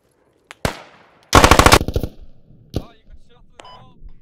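Gunfire in the Squad video game: a few single shots, then a fast automatic burst of about a dozen loud, close rounds, followed by scattered further shots and faint beeps, with no talk.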